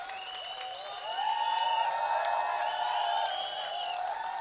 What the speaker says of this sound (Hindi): सबकी तालियों की गड़गड़ाहट पूरे मेरठ के अंदर के आगाज करना चाहिए